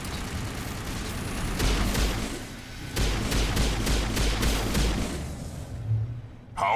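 Sniper rifle fire in the Mass Effect video game rings out as a run of loud, sharp cracks at fairly steady intervals over a busy rumbling battle backdrop.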